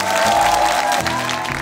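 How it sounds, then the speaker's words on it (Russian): An audience claps continuously, with dense, loud applause filling the whole moment without pause. "Все аплодируйте, и мы начинаем."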